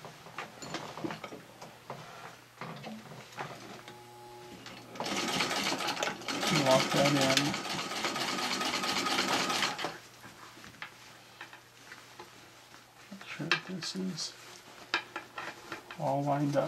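A Singer 15-91 sewing machine stitching a patchwork flat cap, with short bursts of rapid rhythmic whirring and a sustained stretch of stitching in the middle, separated by quieter pauses with light handling clicks and some talking.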